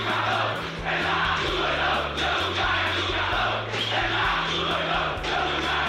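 A large crowd of football fans roars and chants in a stadium, a dense, continuous wall of cheering with a steady low drone running throughout and no clear pauses.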